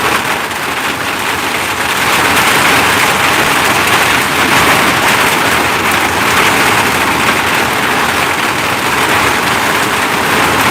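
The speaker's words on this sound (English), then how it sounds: "Y'all hear this rain?" Steady heavy rain pours down outside an open door at home, a dense, continuous hiss at constant loudness throughout with no pauses.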